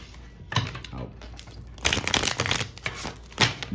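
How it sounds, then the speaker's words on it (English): A crystal healing card deck being shuffled, with quick bursts of riffling and sliding cards in a few clustered flurries, close and crisp. "do a little shuffle, pull a card"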